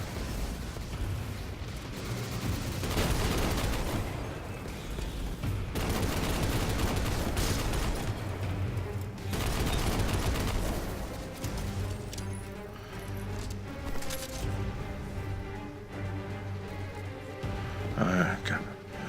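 Gunfire and explosive blasts in a Destiny 2 Nightfall strike, The Pyramidion, played as a Warlock, rattle on in dense, loud bursts nearly throughout, with brief lulls between volleys.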